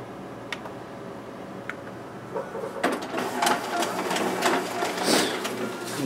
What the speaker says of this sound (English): there we have our document feeder working properly